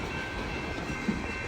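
BNSF freight train led by locomotive #6373 rolling through the Main Street crossing in high winds, a steady close rumble of moving cars with no talking.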